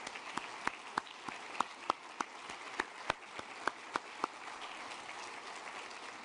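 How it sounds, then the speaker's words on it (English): Sparse audience applause at a faith-and-development discussion, a dozen or so distinct claps spaced fairly evenly, fairly faint and distant, fading out after about four seconds. "could you stand up and we'll give you a round of applause"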